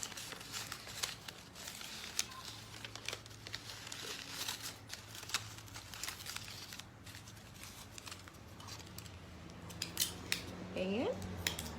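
Scissors snip through newspaper while a paper wreath is trimmed, a run of crisp close cuts and crinkles with faint talk underneath.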